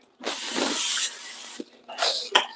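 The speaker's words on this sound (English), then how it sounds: "I got olive oil cooking spray." Olive oil cooking spray hisses into a pan before frying keto chicken: one steady, loud spray of nearly a second, followed by a couple of short, softer spritzes.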